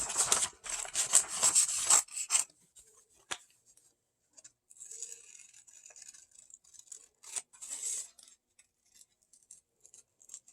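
Scissors snip through paper to cut out a turkey shape for a kids' craft, with a dense run of quick rasping cuts at first, then scattered, softer snips and paper rustles. No one speaks.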